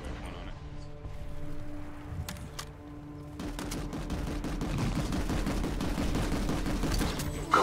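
Bursts of automatic gunfire in a PlanetSide 2 battle, rapid rattling shots that grow denser and louder partway through, with a voice talking underneath at times.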